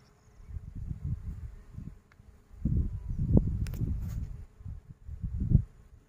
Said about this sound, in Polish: I tutaj wszędzie są pszczoły.